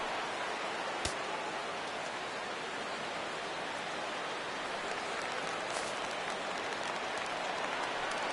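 Simulated stadium crowd in the baseball video game MLB The Show 17, San Francisco at Arizona, rises into a steady, dense roar for a full-count pitch, holding evenly throughout with a brief sharp click near the start.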